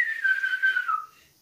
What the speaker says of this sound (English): With the whistle in the background.